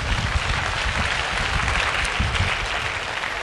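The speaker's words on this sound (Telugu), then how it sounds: "మరి మీరందరూ కూడా భావిస్తే ఒకసారి గట్టిగా చప్పట్లు కొట్టండి." An audience at the IMPACT 2013 workshop claps loudly and steadily, a dense, even wash of many hands that holds for several seconds without a break or voices.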